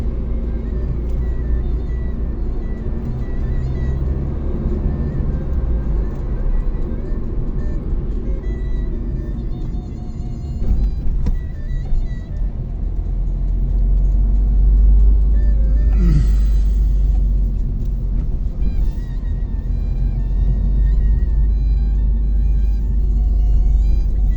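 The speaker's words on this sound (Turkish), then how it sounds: "Kısaca şehir trafiğini böyle birlikte bir gördük." Steady city road traffic in Bafra on the eve of a holiday, a continuous low rumble of cars passing close by, with engine noise swelling louder in the second half.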